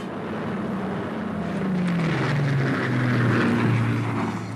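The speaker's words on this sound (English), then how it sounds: "The Mosquito is a superb aeroplane." Piston engines of a de Havilland Mosquito DH-98 aircraft droning steadily, a deep tone that slides lower and swells in loudness as the plane passes nearby.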